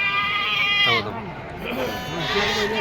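Lambs bleat loudly and repeatedly close by at the Atpadi sheep market, with people talking over them and livestock sounds in the background.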